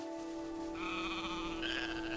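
Sheep in the Farewell North video game, set in the Scottish Highlands, bleating close by in a couple of wavering cries over a steady tonal background hum, with no talking.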